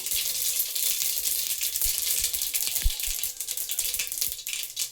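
Mustard seeds and cumin sizzle steadily in hot oil in a pot, a dense crackling hiss broken by scattered sharp pops and small clicks, close and continuous with no talk.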